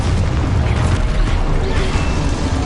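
A blast spell goes off in the Hogwarts Legacy video game, a loud dense rumbling boom with crackling debris that fills the whole stretch without a break.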